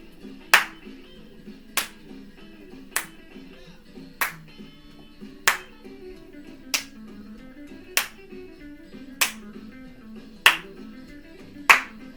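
Sharp single hand claps repeat at an even, slow pace about once every second during an exercise routine, crisp and close over faint background music.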